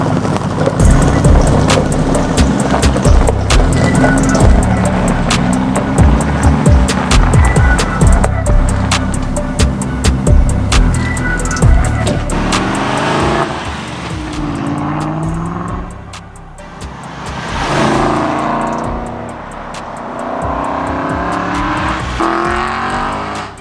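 An Aston Martin V8 Vantage, recently repaired after damage, on the move, with a loud, continuous engine drone and road noise from close inside, its pitch swelling and falling as it accelerates and eases off.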